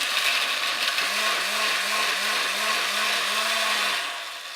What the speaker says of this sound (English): So now we're going to blend these carrots.